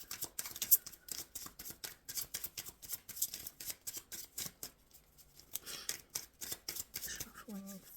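Tarot cards being shuffled by hand close by, a quick run of soft crisp riffles and slaps in a steady rhythm, quiet overall, with a brief voice near the end.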